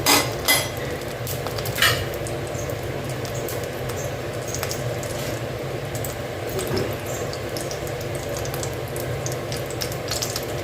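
Whole cinnamon and cloves go into hot oil in a kadai for potato biryani, with close metallic clinks of a utensil against the pan at the start over a continuous low frying sizzle.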